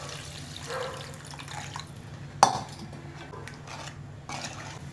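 Tamarind soaked and dissolved in water is poured into a simmering kara kuzhambu curry, a faint liquid trickle and splash with a single sharp clink of a vessel midway, close and quiet.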